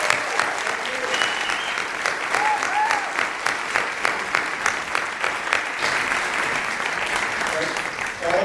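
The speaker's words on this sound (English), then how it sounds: "how about one more round of applause?" An audience at the MNFF 2023 film festival opening night gives a full round of applause, dense, steady clapping that fills the whole stretch at an even loudness.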